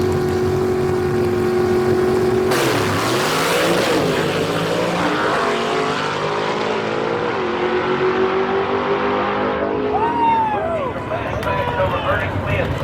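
A modified race car known as the Atomic Hillbilly roars loudly at a drag racing event, its engine note rising and sweeping past, with a commentator talking over the steady motor noise.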